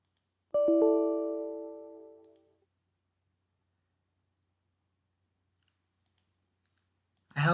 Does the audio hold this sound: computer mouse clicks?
yes